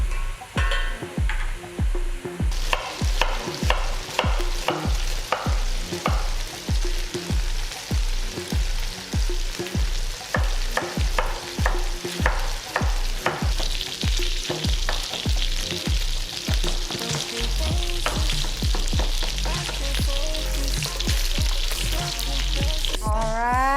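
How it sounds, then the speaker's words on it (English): Pork belly sizzles steadily in a hot pan, with repeated scraping and stirring strokes and a louder, hissing crackle toward the end. "I was frying up the pork belly"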